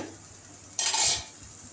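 Dal being stirred in a pot with a spoon, a soft scraping swish that swells for a moment and then fades, quiet and close, with no voices.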